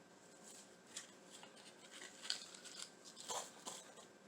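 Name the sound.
cutting craft material with scissors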